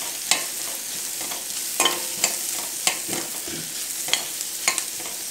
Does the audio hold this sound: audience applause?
no